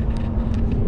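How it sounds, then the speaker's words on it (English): Ford F-150 King Ranch SuperCrew 4x4 pickup rolling along on a test drive, a steady low road and engine rumble with tyre hum, constant and fairly close throughout. "Truck drives smooth"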